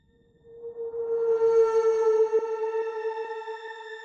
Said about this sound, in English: tail that is like rising, and this is the Shimmer reverb